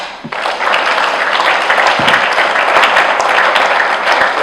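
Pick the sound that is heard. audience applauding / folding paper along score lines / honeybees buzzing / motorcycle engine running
audience applauding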